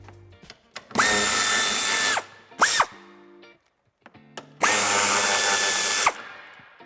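Two long bursts of a cordless power drill or driver running at steady speed, each rising and falling with trigger pulls, backing out the two screws holding a Hyundai Tucson NX4 tail light, with brief clicks and handling sounds between, close and loud.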